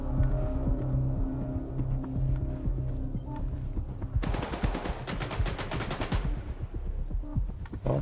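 Rapid automatic gunfire in the shooter game Stalker 2, a loud burst of sharp rhythmic shots in the middle of the clip over low rumbling ambience, with no talking.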